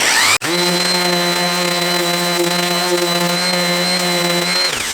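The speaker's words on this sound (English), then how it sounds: "I am going to just sand it very lightly with this 220 grit sandpaper on this orbital sander." An orbital sander running with 220 grit sandpaper lightly scuffing a white plastic guitar pickguard on a cheap Strat-style kit, a steady close motor whine that starts abruptly and holds for several seconds alone.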